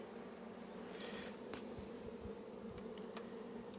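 Honeybees hum faintly and steadily at an open hive while a newly caught swarm is being housed, with occasional soft taps and rustles.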